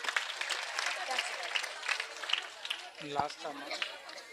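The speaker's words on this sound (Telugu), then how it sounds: "చప్పట్లు కొట్టండి" A church congregation claps hands together in a dense, continuous patter that fills the whole stretch. A brief voice rises near the end.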